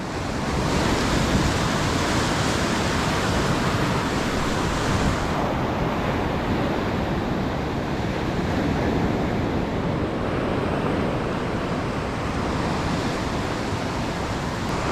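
Ocean surf breaking on a Jersey Shore beach in Ocean City, New Jersey, a loud continuous wash of waves with wind noise, rolling and hissing steadily with no voices over it.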